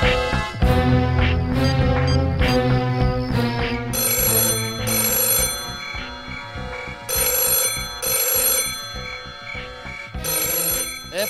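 A mobile phone ringtone plays as a repeating melodic pattern of bright electronic tones, with bursts of sharper high notes recurring at regular intervals over about eleven seconds, loud and close with no talking.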